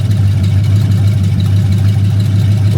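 A car engine idles steadily after repair work, with a loud, deep and even rumble that holds without revving. The engine has 71,000 miles on it and no exhaust fitted yet.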